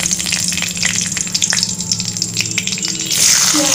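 Bay leaves and whole garam masala sputter in hot oil for a Bengali hilsa pulao, a close crackling sizzle with scattered pops, swelling into a louder hiss at the end, no talk.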